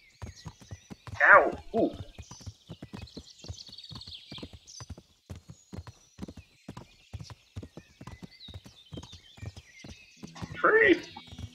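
A horse gallops across open ground in the medieval game Kingdom Come: Deliverance, its hooves clopping in a fast steady rhythm, with a man's brief pained exclamations and a whinny breaking in.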